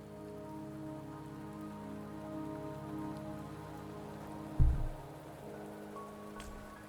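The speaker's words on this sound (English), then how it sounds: "Don't worry, the rain won't last much longer." Steady rain patters on surfaces in the video game Wuthering Waves, a soft continuous wash under low sustained music tones, briefly broken by a dull thump midway.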